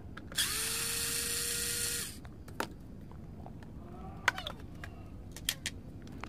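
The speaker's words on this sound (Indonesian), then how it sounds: "bongkar dulu ya 3 baut bagian bawah ini" A power screwdriver whirs steadily for about two seconds while removing the bottom bolts of an Airlux blender, followed by faint clicks and handling of tools and parts nearby.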